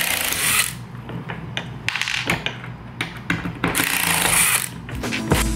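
Screws driven into a plastic Rubbermaid utility cart, a busy run of clicking, ratcheting driver and mechanical rattles with bursts of whirring and scraping, close and fairly loud.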